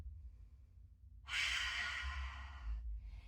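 Someone in a vinyasa yoga class exhales in a long, audible breath lasting about a second and a half after a quiet pause, with faint breathing continuing afterward.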